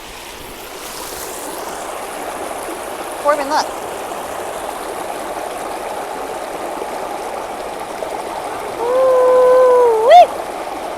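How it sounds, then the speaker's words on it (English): A small waterfall in a stream rushes and splashes steadily in nature, a constant close wash of water while someone talks and exclaims over it. "you got like a little waterfall over here."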